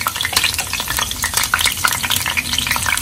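Curry leaves crackle and sizzle in hot oil in a pan while making Chettinad-style nethili fish fry: a continuous, close, busy frying hiss with dense sputtering pops and no voices.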